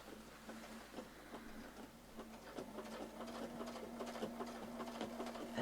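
A sewing machine hums steadily while stitching a curved circle seam, with a continuous motor drone and faint rhythmic needle clicks, close and moderately loud with no talking.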